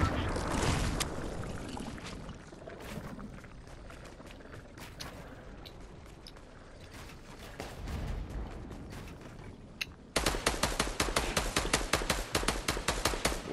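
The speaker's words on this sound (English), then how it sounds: "Where are they shooting at?" Gunfire in the Fortnite video game: scattered shots and bursts over a busy game mix of ambience, then a loud, steady run of rapid shots near the end.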